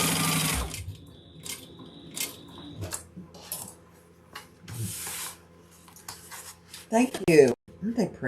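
A sewing machine stitches the sides and bottom of a folded fabric piece in short whirring bursts separated by pauses, with someone talking between runs and some clattering handling noises near the end.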